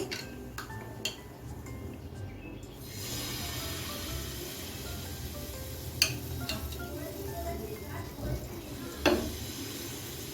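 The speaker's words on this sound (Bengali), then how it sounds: "আমি এভাবে সবগুলো ভেজে নিচ্ছি" Flour-and-egg snacks fry in oil in a pan. A quieter opening gives way to a steady hissing sizzle, broken by a few sharp utensil taps and clicks, with no clear talk.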